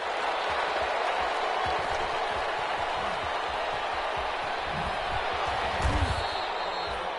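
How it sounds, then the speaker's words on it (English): Stadium crowd applause in the Madden 21 football video game after a defensive stop, a steady broad roar of clapping and cheering sustained throughout, with a brief louder swell near the end. "How about some applause for the defense there?"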